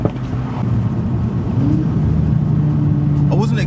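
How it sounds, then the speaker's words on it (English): A Stage 2 Audi S3 saloon with a fault, its engine droning loudly and steadily at close range, rising in pitch briefly on a downshift, with a brief chirp near the end. "Downshift. Oh my God, that was well loud."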